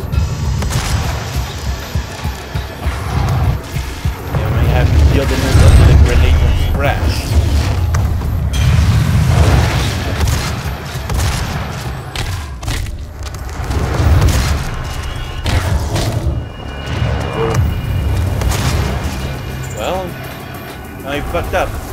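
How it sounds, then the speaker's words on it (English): Gameplay from the DOOM demo with booming grenade explosions and mechanical clanks over loud game sound, several heavy thumps spread through the stretch, while someone talks over much of it. "Yielding this up to the grenade."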